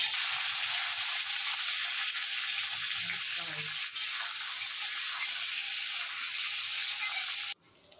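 Potatoes, tomato and green peas frying in a wok, a loud continuous close-up sizzle with faint stirring, cutting off abruptly near the end.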